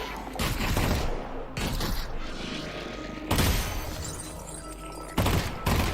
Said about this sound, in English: Man, the firefights in this game so intense.